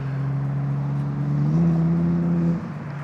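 A Lamborghini Huracán STO's deep engine drone hums steadily, climbs a little in pitch, then falls away as the car moves on.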